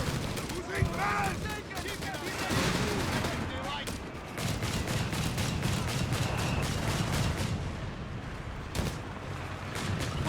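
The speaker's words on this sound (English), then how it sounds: "Taking small arms fire here" Small arms fire in Company of Heroes 3, a dense, continuous rattle of rifle and machine-gun bursts with sharp individual cracks throughout, heard under a commentator's voice.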